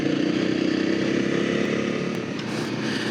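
A Honda CRF250L motorcycle rides along a dirt road through a eucalyptus plantation, its engine droning steadily and loudly with a buzzing, slightly fluctuating note and wind noise, with no talking.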